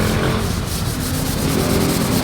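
Steady rasping rub of hand sanding with No. 100 sandpaper on a metal gate being prepared for a 2-in-1 primer and final coat, a continuous close scraping that fills the whole stretch without pause.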